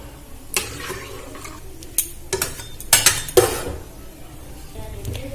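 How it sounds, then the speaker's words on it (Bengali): Soybean curry is stirred in a metal pot: a spoon scrapes and clinks against the sides in uneven bursts over a low simmering bubble, close and clear, with no talking. "এবারে ভালো করে নাড়াচাড়া করে নেব"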